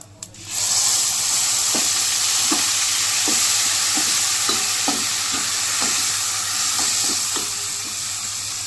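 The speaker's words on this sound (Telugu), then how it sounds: "పుదీనా కొద్దిగా పచ్చి వాసన పోయిన దాకా వేపాలండి" Mint leaves frying in hot oil for mint rice, a steady close sizzle and hiss with repeated light scraping taps of a spoon stirring the pan at an uneven rhythm, no voices.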